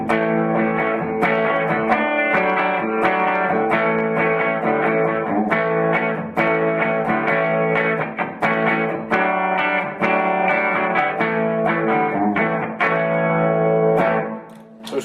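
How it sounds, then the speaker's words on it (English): An electric guitar runs through a TC Electronic Hall of Fame pedal on its ambience reverb setting, giving a subtle sense of space. Strummed chords and picked notes ring out steadily and loudly, with no talking. "the ambience almost isn't reverb, it's just add a little bit of openness and 3D coloration to your sound"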